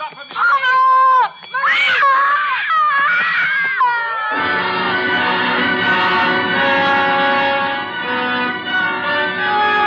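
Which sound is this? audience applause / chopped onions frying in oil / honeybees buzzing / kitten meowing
kitten meowing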